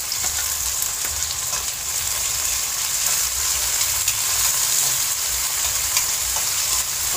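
Pork liempo and tomatoes sauté in a hot pan for sinigang, giving a loud, steady, close sizzle and crackle with faint stirring and no talk.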